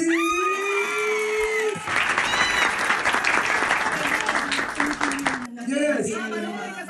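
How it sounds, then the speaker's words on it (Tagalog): A crowd breaks into loud, sustained applause for several seconds, with a person speaking just before and again as the clapping fades. "Bago nakasagot si VP Sara, puro palakpak."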